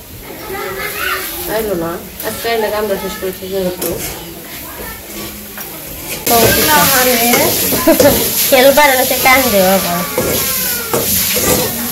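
Banana blossom pieces hiss and sizzle as they fry in a pan in a Bangladeshi village kitchen, a steady crackle under continuous nearby talking that grows louder partway through.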